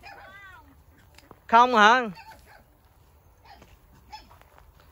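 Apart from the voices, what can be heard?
puppies whimpering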